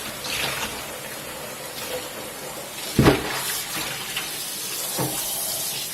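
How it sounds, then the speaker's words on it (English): Running tap water rinses dyed fabric in a sink, a steady close wash of water with a sharper splash or thump of cloth near the middle and a smaller one toward the end. "this is the third rinse."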